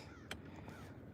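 Outdoors on a lake during bass fishing, a single crow gives one short caw at a distance over quiet, steady background ambience.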